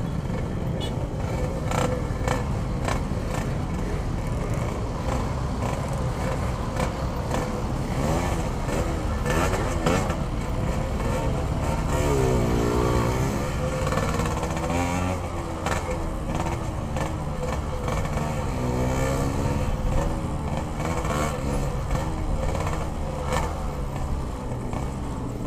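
Heavy jammed traffic on the road to Puncak Bogor: car engines idle and rev nearby, with passing vehicles and intermittent horn-like tones over a constant motor rumble, no talk.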